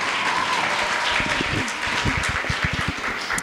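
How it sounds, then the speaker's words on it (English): An audience at a Somali community gathering in Columbus, Ohio claps, a moderate crowd applause that thins into scattered individual claps. "Please give her a round of applause."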